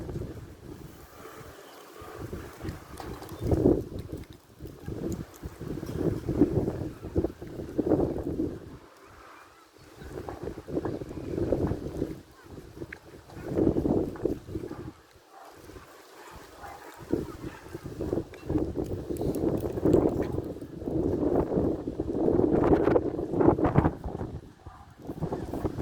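Strong wind blowing outdoors near coconut palms, buffeting the microphone in loud, gusting surges that rise and fall over a long stretch, with no talking.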